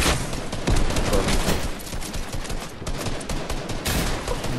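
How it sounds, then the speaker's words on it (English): Rapid video game gunfire in a near-continuous loud burst of overlapping shots, dense and sustained for several seconds with brief flurries throughout. "None of the shots hit him."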